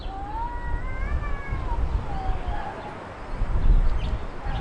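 A village cat meows in a long, drawn-out wail followed by a second descending call, heard close over a busy outdoor background of birds and ambient noise.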